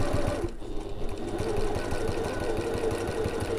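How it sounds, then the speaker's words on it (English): A flatbed sewing machine stitches around the top of a bag, its needle chattering in a fast, even rhythm close by, running continuously with no speech. "so I'm sewing inside the bag"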